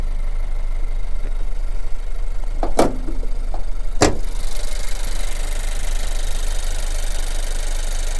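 A 2022 Honda CR-V Touring AWD with a 1.5-liter turbo engine idles under an open hood, giving a loud, steady low drone with two sharp knocks or clunks partway through.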